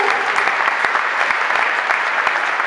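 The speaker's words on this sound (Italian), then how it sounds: "Un applauso" Audience applause as a singer takes the stage at a live concert, a steady dense burst of clapping from a crowd, loud and close, lasting the whole short clip with no talk.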